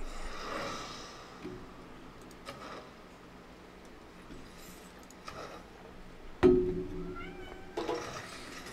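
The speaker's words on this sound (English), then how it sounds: "Oh, I got a kitty who wants love and attention." A pet cat meows a couple of short, fairly faint times near the end, over a quiet, steady indoor background.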